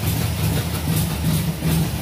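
A Volkswagen Beetle's 1300 engine idles close by, a loud, steady low rumble with a faint rhythmic pulse throughout and no other sounds.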